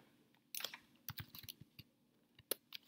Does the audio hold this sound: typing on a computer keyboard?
yes